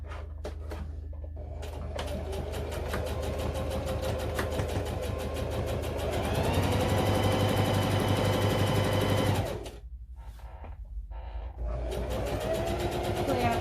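A sewing machine stitches a lap blanket in a steady, loud run of motor hum and needle chatter, with a brief pause near the end before it starts up again.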